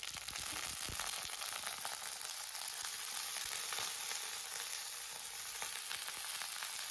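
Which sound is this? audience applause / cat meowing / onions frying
onions frying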